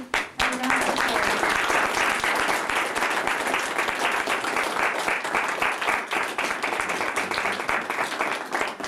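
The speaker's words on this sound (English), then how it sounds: "would everybody like to have a round of applause?" Wedding guests at Marsham Court applaud after the vows, a dense, sustained round of clapping that fills the room for several seconds.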